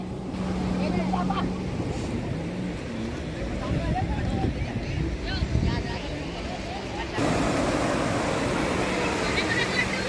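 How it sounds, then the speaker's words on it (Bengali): Sea waves breaking on the beach at Puri form a steady, loud roar that continues throughout, with wind buffeting the microphone and occasional voices underneath. "আর তোমরা নিশ্চয়ই শুনতে পাচ্ছ ঢেউয়ের খুব আওয়াজ হচ্ছে"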